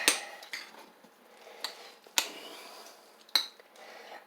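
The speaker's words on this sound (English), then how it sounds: "I stir that butter in." A utensil stirs butter into cooked food such as cinnamon bread in a pan, giving a few sparse, sharp metallic clinks and taps against quiet background.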